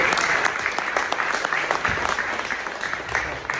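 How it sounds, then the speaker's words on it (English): Sustained applause from an audience at an AI agent hackathon demo event, a dense steady patter of many hands clapping throughout, fairly close and full. "huge round of applause to all of you"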